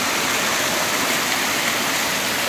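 A loud waterfall pouring down from a height, making a constant, unbroken roaring rush of water close by with no voices.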